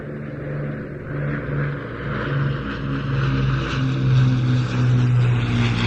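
Avro Lancaster bomber flying at an airshow, its piston engines giving a steady, droning propeller hum that swells slightly louder toward the end, heard alone without voices.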